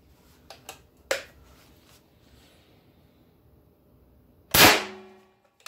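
A single sharp, loud report from a Benjamin Bulldog .357 big-bore air rifle, preceded by a few faint clicks and handling taps, then a crack that decays over roughly a second.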